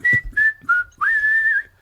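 A person whistles a short melodic phrase: three brief clear notes, then one longer sustained note, close and alone.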